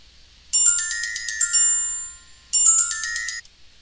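A mobile phone ringtone is picked up by studio microphones. It plays as two loud bursts of bright, repeating electronic melody separated by a short pause, clean and close over a quiet background.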